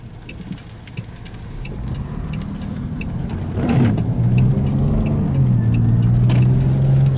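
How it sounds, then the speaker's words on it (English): Cars pass on a wet street in downtown Loveland, a steady hiss of tires with one vehicle swelling close by midway and a low engine drone lingering afterward. "This time of day gets a lot of traffic on Sundays."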